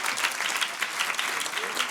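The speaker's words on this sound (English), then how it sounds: "let's give them one more round of applause" Sustained audience applause fills a hall at a community awards ceremony, a dense, steady wash of many hands clapping at once with no break, loud and close throughout.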